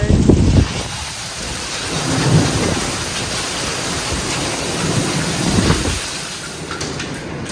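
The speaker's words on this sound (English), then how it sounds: "It's hailing." A hailstorm with thunder and heavy rain outside a house and yard makes a steady, dense roar of falling precipitation with low rumbles rising and fading, loud and close, with no voices.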